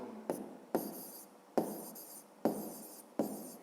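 A pen writes on paper while a fifth-grade maths answer is noted down: five quick scratchy strokes in a steady rhythm, close and quiet, with no voices.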